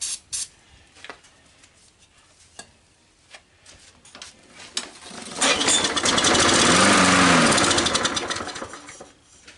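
A Murray push mower engine catches after a pull and runs, first a few faint sputters and knocks, then a louder steady buzzing roar that rises and holds, heard nearby without talk.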